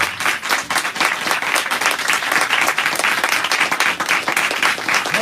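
A church congregation claps loudly for the Holy Spirit during an Urdu-Hindi sermon, a dense, steady wall of many hands at close range that carries on for several seconds without pause.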